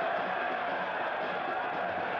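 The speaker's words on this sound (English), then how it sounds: "Crowd asking for a foul." A football stadium crowd at a Las Vegas Lights FC versus Vancouver Whitecaps FC match gives off a steady, distant roar of fans calling out, a continuous even wash of many voices.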